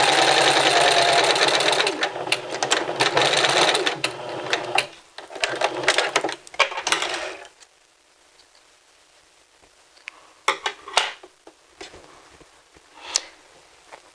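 A sewing machine stitches the shoulder seam of a caftan with a fast steady whir for several seconds, stops, then gives a few short stitching bursts and ticks in a quiet room.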